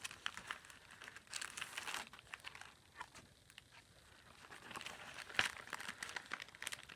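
Repurposed double-sided acetate bag holding journaling cards being handled, giving soft intermittent crinkling and rustling close by, faint overall with a few sharper crackles.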